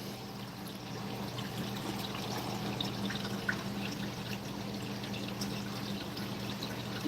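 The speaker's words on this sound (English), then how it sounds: "the water moving through the filters or coming back out" Water from an aquarium filter pours back into a fish tank, a faint, continuous trickle and splash under a low steady hum, with no talking.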